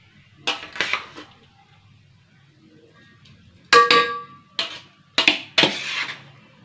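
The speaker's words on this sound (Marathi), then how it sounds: "आता हे सर्व मी ह्या पातेल्यामध्ये टाकून घेणार आहे." Biryani mixture being tipped into a metal cooking pot: a few separate sharp clangs and scraping clatters of a spoon or ladle against the pot, close and bright, with quiet gaps between bursts.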